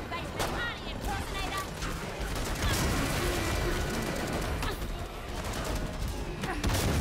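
Gunfire in the video game Killing Floor 2, a dense continuous run of rapid shots with mechanical clatter, loud and close, mixed with game noise throughout.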